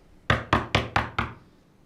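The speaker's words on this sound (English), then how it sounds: "Knock again if you don't mind." Five firm, evenly spaced knocks land on a locked door, close and sharp, the last slightly softer, with no voices in between.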